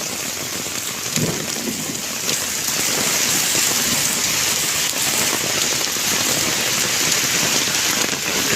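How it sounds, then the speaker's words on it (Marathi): Heavy monsoon rain pours down steadily in Mumbai in a dense, unbroken roar with no voices. "एवढ्या जोरात पाऊस पडतो"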